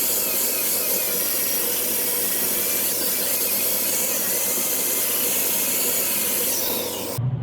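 Steady, continuous rasping as excess wood is trimmed from a seven-string baritone guitar neck, loud and close throughout with no pauses until the very end.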